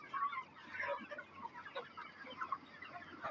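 Hens clucking inside a poultry farm, a busy layered chorus of many birds at moderate distance, steady throughout with no talking.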